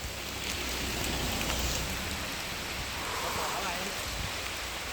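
Rain falling as a steady, dense hiss of drops on a surface, constant and even throughout with no breaks, with no words heard.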